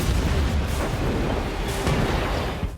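A grenade thrown in a film action scene goes off with a heavy booming blast and rumbling aftermath, loud and close, fading at the very end.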